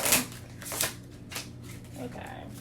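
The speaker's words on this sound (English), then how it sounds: "Let's get a good shuffle." Tarot cards being shuffled by hand, a few quick riffling bursts of papery rustle close up, with brief pauses between them.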